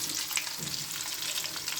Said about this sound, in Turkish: Daha sonra köftelerimizi de kızartıyoruz.